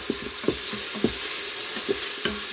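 A metal utensil scrapes and knocks against an Amaro griddle cooker while stirring paella, with about five sharp clinks spread over a steady sizzle, close and fairly loud, no talking.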